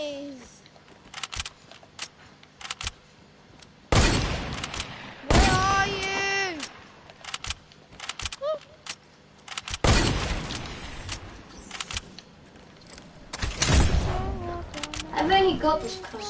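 Scattered gunshots and bursts of fire go off in a PS4 shooter, loud and irregular, heard under and between excited voices of players talking over each other.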